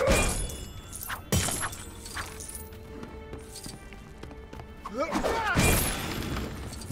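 Objects shattering and breaking apart in Lego The Hobbit, with sharp crashes of plastic pieces, a bright smash near the start, another burst midway and a louder clattering break toward the end amid game sounds.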